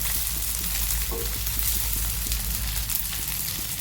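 Poha snack fries in a pan with a dense, constant sizzle while it is flipped, producing soft scraping and stirring clicks close by.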